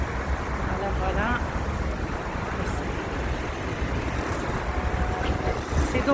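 Steady, broad wind rumble buffets the microphone at a beach, continuous and fairly loud, with a faint hiss of water and distant traffic underneath.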